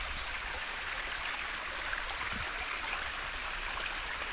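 A stream flows over rocks in the Cheviot hills, a steady, soft rushing hiss of water with no breaks.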